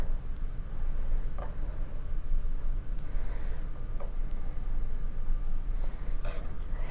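Marker or pencil strokes scratching steadily across yellow paper while giraffe spots are drawn, a close, continuous rubbing texture with short pauses between strokes.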